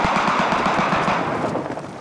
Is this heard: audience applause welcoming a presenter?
no